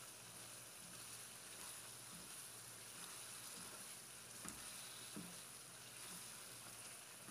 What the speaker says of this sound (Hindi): स्पाइसेस ऐड करने के बाद मसाले को हम अच्छी तरह से फ्राई कर लेंगे।